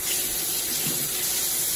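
Tap water runs steadily and loudly over fish fillets being covered for brining, a continuous close rushing splash with no pauses.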